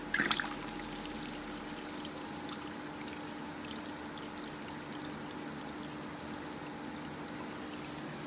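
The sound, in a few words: water flowing through aquarium siphon drain into sump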